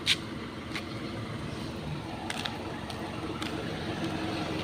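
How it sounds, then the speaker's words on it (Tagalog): Street traffic rolls past on a city walk as a steady low rumble of passing vehicles, moderately distant, with a few faint clicks and knocks on top and no talk. "Mga sasakyan."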